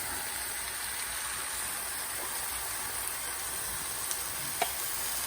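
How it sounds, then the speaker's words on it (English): Frozen corn, straight from the freezer, sizzles as it blackens in a kitchen pan, a steady broadband hiss with a couple of faint clicks near the end. "I want to try to blacken this corn a little bit."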